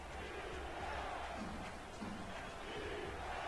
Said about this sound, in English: Crowd here in San Francisco still getting involved, doing what they can as Pepper comes out in an empty backfield,